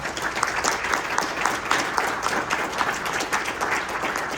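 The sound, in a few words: audience round of applause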